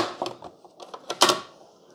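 Plastic housing of a Mr. Coffee Iced + Hot coffee maker creaks and clicks as it is pried open, a series of sharp close snaps ending in one louder crack.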